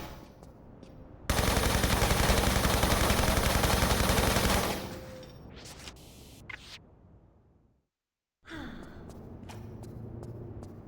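Loud, dense burst of automatic gunfire in Tomb Raider 3 Remastered, a sustained rattling volley of a few seconds that cuts off abruptly, followed by quieter game ambience, a brief silence and more background sound.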